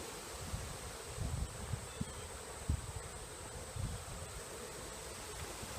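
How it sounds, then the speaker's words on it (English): Bees buzz around an opened top bar hive, a faint steady hum with soft rustles and light bumps close by, no voices. "I got a lot of bees on top"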